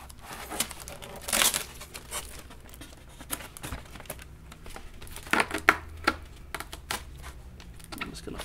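Packing tape pulled and pressed onto a foam board model plane, crinkling and tearing in uneven bursts with soft patting and rustling, close up and moderately loud.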